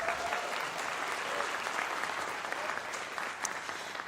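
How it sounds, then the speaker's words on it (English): Steady audience applause at a Mowilex leadership series event, dense even clapping from a large crowd sustained throughout without a break. "Once again, please give a big applause."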